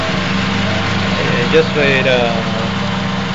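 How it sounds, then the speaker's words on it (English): A car engine idles on a vaporizer fuel saver setup, a steady low mechanical hum with a brief quick rise in pitch in the middle, while someone speaks briefly over it. "My engine right now is running on idle"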